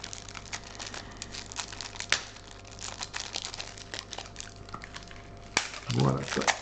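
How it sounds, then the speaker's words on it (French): Thin protective plastic film crinkles as it is peeled off a Dragon Ball Super card game starter deck. Light crackles and rustles stay close, with someone talking throughout. "On fait sauter le petit film de protection."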